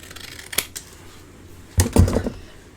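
Scissors snip through a paper scrap, a couple of short crisp cuts followed by a quick burst of rustling snips, close and fairly quiet.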